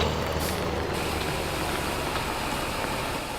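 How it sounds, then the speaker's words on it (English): Big Bud tractor in Farming Simulator 17, set in NW Texas, its engine revving steadily while unloading grain, a loud continuous rumble with a high hiss on top and no pauses. "So the Big Bud does rev up when it is unloading"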